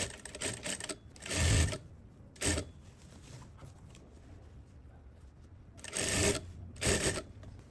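Sewing machine stitching the facing of a tailored skirt, running in several short bursts of rapid stitching separated by quiet pauses, close and fairly loud.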